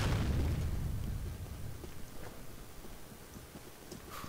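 Shotgun blasts in the online shooter Combat Arms: a loud boom opens the moment and decays into a rumble, followed by several sharper scattered pops and thuds from the firefight, no talking.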